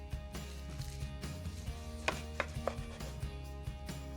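A knife cuts through a roast Indian-spiced pork loin with crispy skin and fennel and onion stuffing, giving a few crisp crunching taps on a board over quiet kitchen background.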